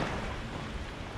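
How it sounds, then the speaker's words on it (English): Rain begins falling outdoors in Grand Cayman at the start of hurricane season, a steady, dense broadband hiss with no voices, continuous and fairly close throughout. "oh, here comes the rain again"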